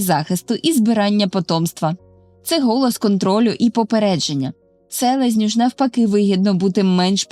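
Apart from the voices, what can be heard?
None of the usual background noises is heard.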